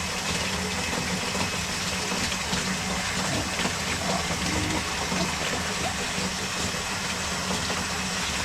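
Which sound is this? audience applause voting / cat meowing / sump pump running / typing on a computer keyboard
sump pump running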